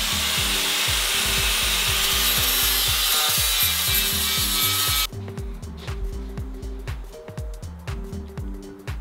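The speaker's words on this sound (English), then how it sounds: "What do you think about my grinding?" A power grinder works over a welded-in rear seat section on a vintage Porsche 911, a loud, close, continuous harsh grinding for about half the clip, then choppier rhythmic scraping strokes.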